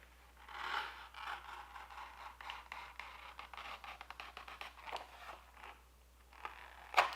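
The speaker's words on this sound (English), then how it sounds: "I'm just gonna cut all of these out. Got my trusty razor knife here." A razor knife cuts out leather sheaths in a series of short, faint scraping and slicing strokes in an irregular rhythm, quiet and close, ending in a sharper rasp.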